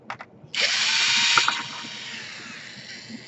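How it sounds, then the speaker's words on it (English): A power screwdriver backing screws out of a Dell Inspiron 17 5000 laptop, with a couple of faint clicks and then a close, loud motor whir lasting about a second that slowly winds down. "Now we have to unscrew the screws here."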